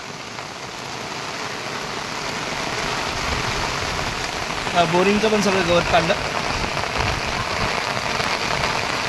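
Heavy rain shower pours steadily onto an open field in the Khed area of Konkan where grass is being cleared, a dense continuous hiss throughout, with a voice speaking briefly over it midway.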